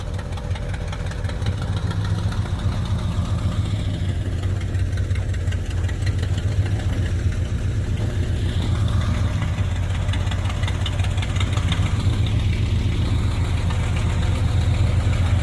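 A 1970 Chrysler Newport convertible's engine runs close by, a steady low, rumbling idle with a faint knock that slowly gains strength toward the end.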